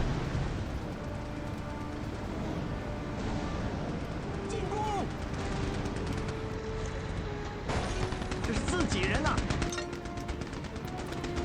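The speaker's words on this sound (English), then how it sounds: "once you get to a firefight with explosions constantly going on" A video game firefight with gunfire rattling almost continuously and explosions rumbling underneath, loud and dense throughout, with a voice talking over the chaos.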